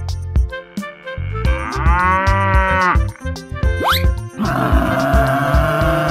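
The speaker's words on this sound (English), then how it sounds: "Buffalo." A cartoon buffalo in an animal racing game gives one long, loud mooing bellow over bouncy background music and game sound effects.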